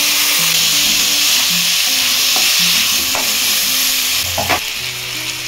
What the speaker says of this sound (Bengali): মশলা ভাজা হয়ে গিয়েছে।